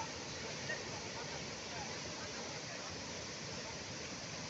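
Waterfall at Tirufall Jharna near Burmu, Ranchi: a steady, dense roar of falling water fills the whole clip without pause, loud and continuous with no distinct voices.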